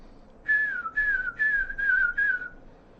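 A voice imitates the whistle of small drilled sling stones thrown through the air, giving five short wavering whistles in a quick even series, close and clear with nothing else around.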